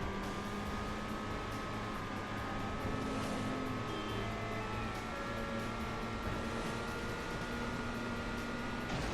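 A car engine drones steadily in the video game Nightfire, a continuous mid-level hum with slowly rising tones, no speech.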